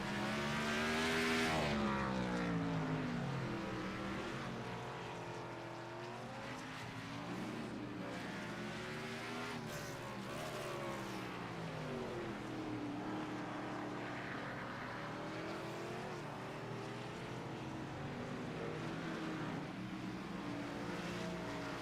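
Race cars lap Sonoma Raceway in a racing game, engines droning steadily with rising and falling pitch as they charge uphill and through the esses, a continuous loud roar with no talk.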